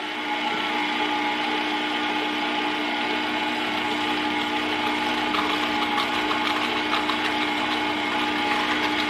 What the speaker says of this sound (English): You want to mix your butter, your sugar, and your ingredients and your cream cheese until you no longer hear that sound.